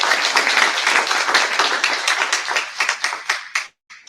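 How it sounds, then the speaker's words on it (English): An audience at an innovation and entrepreneurship awards ceremony applauds, a loud dense patter of many hands that thins into a few separate claps before stopping abruptly. "A round of applause to her."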